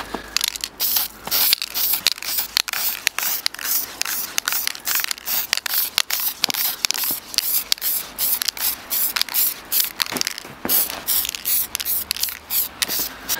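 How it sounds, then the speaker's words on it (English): Close, loud hissing bursts from an aerosol can of plastic primer sprayed onto a plastic pipe, pulsing in a steady rhythm of short sprays with brief gaps, no voices. "I'm going to spray the pipe with a plastic primer"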